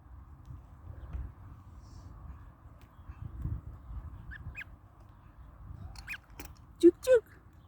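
A pet bird, out of its cage outdoors for the first time, gives a few short, close cuk cuk chirps near the end, two louder calls standing out over a low rumbling background.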